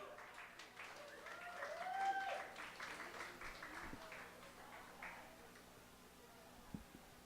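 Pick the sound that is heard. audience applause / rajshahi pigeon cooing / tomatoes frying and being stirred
audience applause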